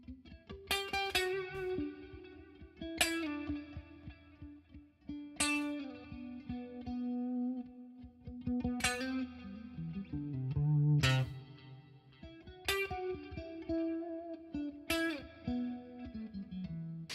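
Electric guitar strums in repeating bursts through a Kiesel HyperRig, each chord ringing out with heavy distortion, chorus and a lingering shared reverb tail.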